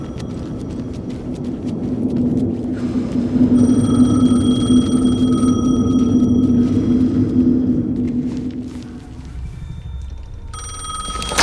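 A telephone rings repeatedly in the horror game Alan Wake 2, bright electronic tones cutting over a heavy low ambient rumble that swells then fades, with the ring pattern returning near the end.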